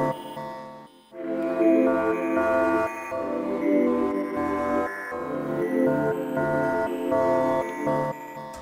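Two layered Omnisphere synth patches, Airy and Wet Flutes, playing soft sustained chords with breathy flute-like tones, a brief dip near the start, then a steady shimmering pad with gentle rhythmic pulses, no voices.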